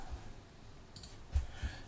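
Typing of virsh commands on a computer keyboard, a few faint, sparse clicks and key taps in a quiet room.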